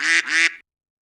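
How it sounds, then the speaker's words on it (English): Two loud, close quacks from mallard ducklings in quick succession, each about a quarter second long, with nothing else around them. "Lack, Mack, Knack, Whack, Pack, and Quack, just as loud as their little quackers could quack"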